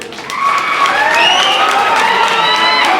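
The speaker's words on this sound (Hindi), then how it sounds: "जोरदार तालियां" Crowd at a joint NC and Congress political gathering in Raipur breaks into loud, sustained applause with some cheering, a dense wash of clapping that swells after a quiet start and holds steady throughout.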